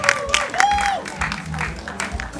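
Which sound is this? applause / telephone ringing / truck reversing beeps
applause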